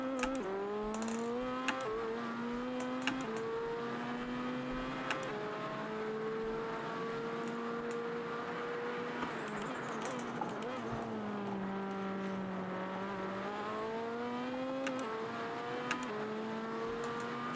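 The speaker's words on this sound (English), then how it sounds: "The turbo just instantly boosts." Pikes Peak race car with a turbocharged engine in Assetto Corsa, revving and shifting repeatedly, the engine note climbing and dropping in steady steps, loud and up close throughout with no talk over it.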